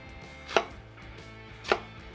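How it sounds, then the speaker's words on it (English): A knife slices through apples for a pancake topping on a griddle, two sharp, distinct chops about a second apart against a quiet kitchen background. "thinly slice these apples"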